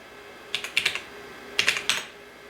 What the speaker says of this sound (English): this keyboard does have a couple of keys that stick pretty badly